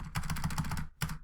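Quick keystrokes on a computer keyboard while entering code, a close run of about six rhythmic taps, a short pause, then one more tap.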